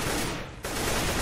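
Rapid gunfire crackles densely and loudly in a first-person shooter match as shots strike a pillar, a sustained burst with a brief dip midway before resuming at full intensity.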